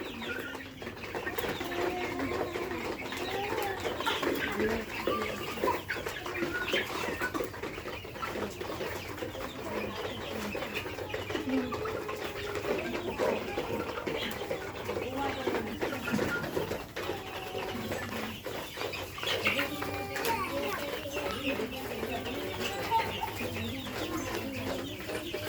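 Egyptian Fayoumi chickens and chicks on a farm, a dense continuous chorus of clucking and chirping with some cooing, steady and fairly close throughout with no speech.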